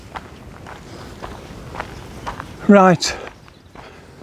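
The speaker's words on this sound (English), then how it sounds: "as soon as I come round, they hear my footsteps" Footsteps on an outdoor path during a countryside walk, a steady run of soft near steps under a man's brief speech, ending in a louder scuffing burst.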